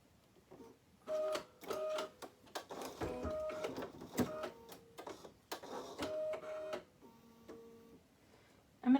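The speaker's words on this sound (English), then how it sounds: "tack those pieces of fabric down by just stitching this out" An embroidery machine threaded with Isacord thread stitches out a tack-down pass over fabric pieces, a fast mechanical rattle in uneven bursts with short pauses, close and alone.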